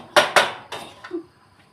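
Metal wok being struck by a chef stir-frying duck: two sharp clangs close together, then two softer knocks and a faint ringing tail, with no talk.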